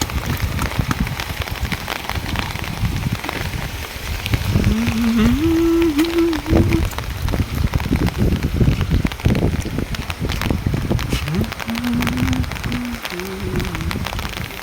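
Heavy monsoon rain pours down outdoors in a steady, dense roar of drops, with a voice heard faintly in two short stretches under the downpour.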